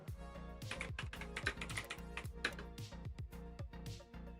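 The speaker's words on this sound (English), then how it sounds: "You can hear the keyboard slamming." Rapid, uneven clacking of keys on a computer keyboard, typed hard and close, with a steady tonal hum running underneath throughout.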